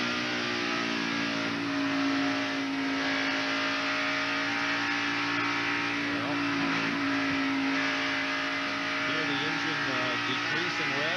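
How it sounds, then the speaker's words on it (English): A NASCAR stock car engine at the 1991 Southern 500 holds a steady, loud drone as the revs ease off slightly, continuous throughout with crowd and track noise beneath and a commentator talking over it. "Decreasing revs, and you can see it there on the RPM telemetry meter."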